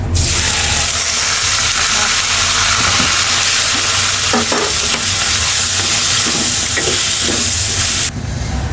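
Cabbage stir-fry sizzles loudly in a pan with a constant close hiss and crackle, a few light stirring scrapes breaking through, then the sound cuts off near the end.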